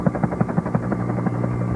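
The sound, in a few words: helicopter flying away, from a Thomas & Friends cartoon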